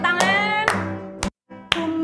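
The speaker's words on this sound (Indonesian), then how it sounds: "Boleh sambil tepuk tangan" Children clap their hands along to a worship song at a Sunday school service, a few sharp claps spaced roughly half a second apart over loud sustained singing and music, with one brief gap of silence.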